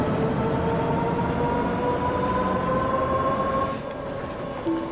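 MAN NL city bus accelerating in the OMSI 2 driving simulator, a steady loud engine drone with rising tonal whine held throughout, easing slightly near the end, no talking.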